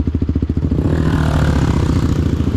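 A group of motorcycles riding past on a wet road in the rain, opening with a rapid, pulsing engine beat that merges into a loud, steady roar as the bikes pass close by.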